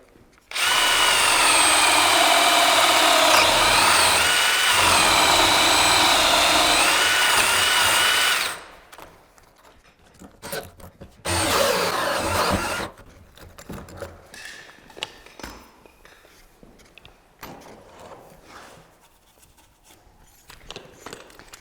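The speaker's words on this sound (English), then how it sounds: "Just using a regular old cordless drill to drill these holes." A cordless drill roars loudly and continuously for several seconds boring lockset holes in an interior door, stops, then runs again in a shorter burst, followed by quiet clicks and handling noises.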